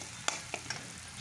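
Eggs fry in a pan, making a soft, constant sizzle broken by three small pops or utensil taps.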